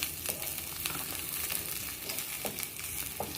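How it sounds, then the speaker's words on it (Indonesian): Onion and shallots stir-frying in a pan, a steady dense sizzle with occasional soft scrapes of stirring, close and continuous with no talking. "pertama menguseng-useng bawang,"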